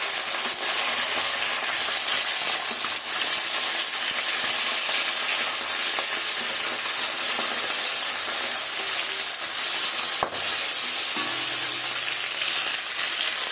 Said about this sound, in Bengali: এই পিসটা একটু লাল লাল করে ভালো করে ভেজে নেব।